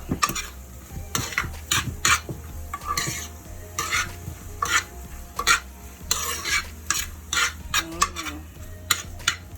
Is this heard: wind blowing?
no